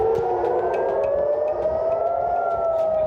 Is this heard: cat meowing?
no